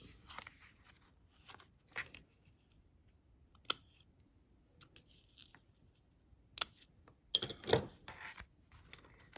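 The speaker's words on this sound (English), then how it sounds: "let me just trim this up a little bit" Scissors trim a paper gift card holder in a few scattered snips and crunches, close and fairly quiet, with quiet pauses between the cuts.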